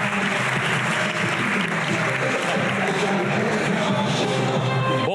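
A packed theater audience at a literary festival applauds as journalist and mediator Gustavo Klein is welcomed onstage, a dense, steady wash of clapping that stays loud and unbroken throughout.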